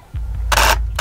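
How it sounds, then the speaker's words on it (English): The shutter of a Canon EOS-1D X Mark III fires once outdoors, a single soft close mechanical clack over low background rumble. "how much softer the shutter is in comparison to the 1DX2"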